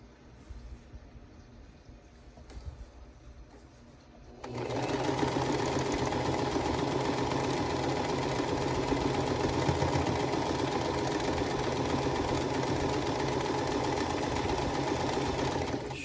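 A sewing machine stitching a quilt block starts after a few quiet seconds and then runs steadily at a fast, even whirring hum, close and continuous.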